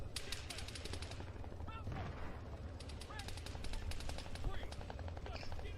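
Sustained gunfire in the military shooter Arma 3, with rapid machine-gun bursts and scattered shots over a low vehicle rumble, near and continuous throughout.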